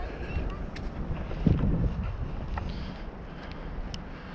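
Steady wind buffeting the microphone with a low, rumbling roar throughout, over faint muffled voices in the background.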